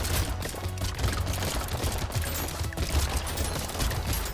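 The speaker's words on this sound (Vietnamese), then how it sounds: "Súng rồng vẫn đang bắn hơi chậm" Dragon gun in the video game Brotato, firing continuously in a dense, rapid stream of crackling shots with a steady low thump underneath, loud and unbroken throughout.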